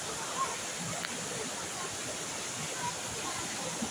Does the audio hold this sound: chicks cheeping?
no